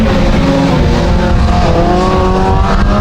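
Mini stock race cars roar around a dirt oval during a heat race, engines droning loud and steady with rising revs, close and continuous throughout.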